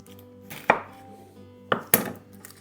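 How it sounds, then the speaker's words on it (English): A sharp knife cuts the ends off a vegetable on a board with a few crisp, close chops spaced apart, each a sharp thud and snap, with no voices. "I'm going to cut the ends off."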